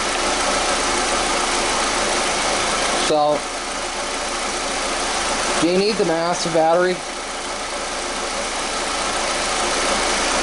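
Ford Escort running on a lawn tractor battery, its engine idling in a steady, even hum throughout, with someone talking briefly over it.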